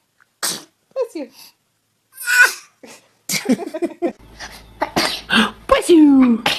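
A baby sneezes repeatedly, with several sharp little bursts close to the microphone, while adults speak and coo around the sneezes.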